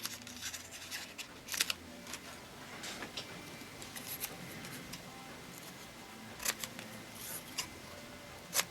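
Scissors cut out paper letters at close range, a quiet run of irregular snips and crisp paper rustles with a few sharper clicks scattered throughout.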